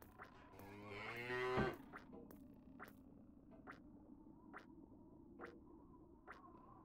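A cow in the video game The Whispered World gives one long, drawn-out moo that rises and cuts off. Quiet, evenly spaced ticks follow over a low background hum.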